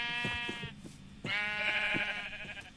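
Sheep in the Minecraft video game bleat in two long, close, wavering calls separated by a short pause, loud and clear with no talking over them.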